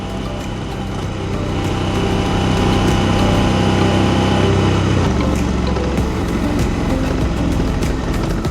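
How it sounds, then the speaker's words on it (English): Lawn mower engine running outdoors with a steady, unbroken mechanical drone that grows slightly louder after the first couple of seconds and stays constant throughout. "what a day to be mowing your lawn"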